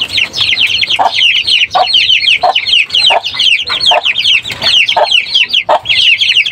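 Aseel chickens clucking repeatedly and close by, a busy overlapping chorus of short calls and chatter running steadily throughout with no talk.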